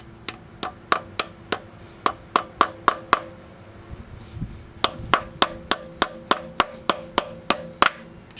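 A hammer taps a part into a Camaro T5 transmission: about twenty sharp, evenly paced metallic knocks close by, with a brief pause partway through, over a low background hum.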